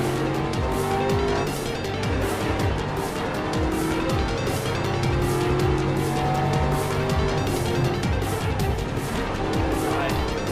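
Race car in GRID Legends power sliding, a loud sustained engine roar with rhythmic gear and rev pulses and squealing tires through the slide, continuous throughout.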